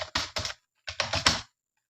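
Keystrokes on a computer keyboard while placeholder text is entered into an HTML form: two close, crisp flurries of clicking, then a short gap, then a third flurry, ending in silence.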